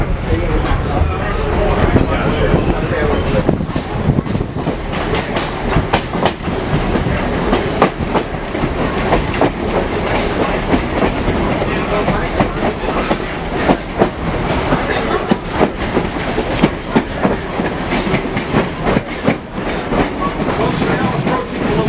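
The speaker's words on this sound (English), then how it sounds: "sitting over there on our new bridge is our excursion train" Reading & Northern excursion train behind steam locomotive #2102 making its turnaround move: a loud, steady rolling rumble with clickety-clack of wheels over rail joints, heard up close for the full stretch, with faint voices underneath.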